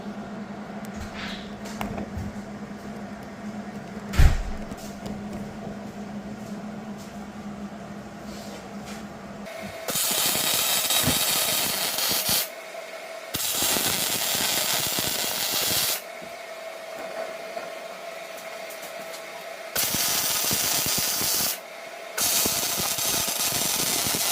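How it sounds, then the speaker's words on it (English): Steel mini bike frame being welded after tacking, with long steady crackling arc bursts of several seconds each separated by short pauses, close and loud, following a quieter stretch of workshop handling. "With everything tack welded in place and square, now we can burn it in."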